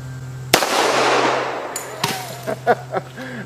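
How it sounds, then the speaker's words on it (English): A pistol shot fired at a watermelon outdoors, one loud sharp crack at close range with a long echoing decay, then faint clatter and a small rustle afterward. "let's just pull it out and shoot this watermelon."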